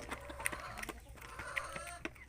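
Hens on a Filipino poultry farm cluck softly and intermittently, a few short calls scattered over faint background noise, with no talk.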